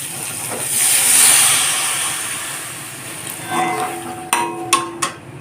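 Water poured into a hot frying pan while cooking a drumstick and poppy seed dish bursts into a loud steam hiss that slowly fades, followed by a few sharp metallic knocks of a utensil on the pan.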